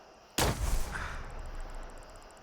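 A single sharp, booming shot in Fallout 4, fired by distant enemies: one sudden loud crack followed by a long rumbling echo that fades slowly, heard alone.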